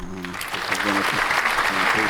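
Applause from an audience at a talk on the rising power of the Gulf, a steady broadband patter of many hands over about two seconds, with voices mixed in underneath.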